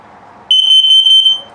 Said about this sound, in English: let me put it through the self-test so you can hear all those alerts